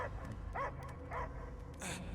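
A possessed dog in Marvel's Guardians of the Galaxy video game gives three or four short, sharp barks and yips at regular intervals over a low rumbling game background.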